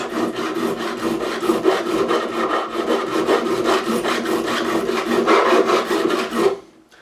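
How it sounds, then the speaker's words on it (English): Fret profiling file working the fat frets of a Tokai Explorer guitar to remove burrs, a rapid, even run of close rasping back-and-forth strokes that stops abruptly near the end. "I'm going to take the profiling file, these are fat frets, I'm going to take the wider side and we're going to finish off, remove the burrs"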